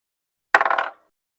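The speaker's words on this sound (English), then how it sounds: "I'm gonna use the metal dice." Metal dice drop onto a tabletop during a tabletop role-playing game, giving one sharp clattering hit followed by a quick, bright series of rattling bounces that die away within half a second.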